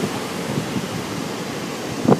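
Rough, big ocean waves rolling into Hanalei Cove, a steady broad wash of surf with wind buffeting the microphone and a brief louder surge near the end.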